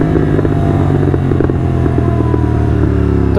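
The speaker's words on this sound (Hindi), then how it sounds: "तो तुम सुन रहे हो ये सेम क्रैकल्स कोड 6 में आते हैं।" A motorcycle fitted with a Red Rooster Code6 exhaust idles and revs with a dense, loud rumble broken by rapid popping crackles throughout, close up with no talk.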